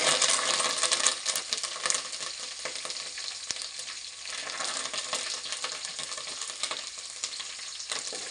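Mustard seeds, green chillies and curry leaves fry in hot oil in a home kitchen, a steady close crackling sizzle with dense sharp spitting pops throughout, loud and without any talk.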